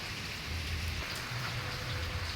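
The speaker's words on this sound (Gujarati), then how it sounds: "ગુરુવારની વહેલી સવારથી 6 વાગ્યાથી વરસાદ એક જ ધાર્યો કન્ટિન્યુ ચાલુ છે" Steady rain falls continuously, a dense patter of drops on surfaces with a low rumbling undertone, no talking.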